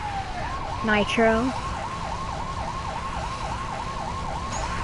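The Dasher police motorcycle in Lego City Undercover runs its siren, a rapid, even warble cycling over and over, while someone briefly speaks over it.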